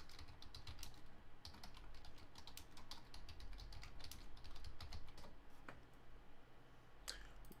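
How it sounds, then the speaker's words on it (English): Fast typing on a computer keyboard, with dense, rapid key clicks running steadily throughout, close and fairly loud, with no talking over it. "I'm typing that into Twitter."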